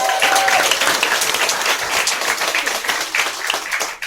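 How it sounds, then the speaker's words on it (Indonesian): Audience applause at a closing event, a loud, dense wash of many hands clapping continuously for several seconds with no speech over it. "tepuk tangan buat Dr. Ferry."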